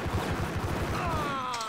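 Rapid gunfire in the Max Payne video game, a dense run of shots in quick succession playing loud and steady, then fading into a ringing, whistling tail.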